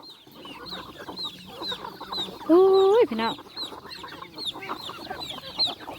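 Farm chickens cluck and squawk close by in a rural Thai village, a busy overlapping chorus with one loud drawn-out squawk in the middle, while a voice speaks briefly over them.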